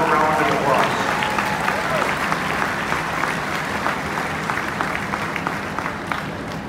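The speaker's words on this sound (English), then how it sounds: "Let's give them one more incredibly huge Iowa round of applause." An audience at the 2018 Iowa State Fair dairy cow show claps in a loud, sustained round of applause that tapers slightly toward the end.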